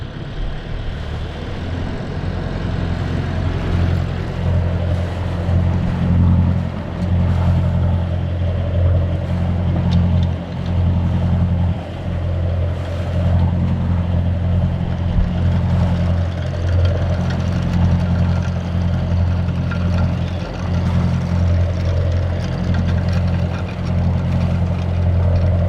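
Boat engine running at about half throttle, a loud, steady low drone with a constant throb that holds throughout, without talk.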